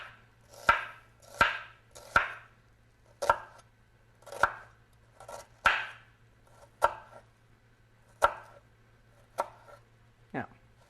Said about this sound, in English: But since it's round, you need to angle the knife gently. Move it back towards you. Use the edge of the knife to make the cuts.